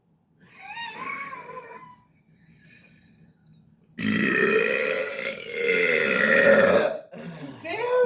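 A person lets out a long, loud, croaking burp that runs for several seconds. It follows quieter throaty sounds and ends in a short final gulp.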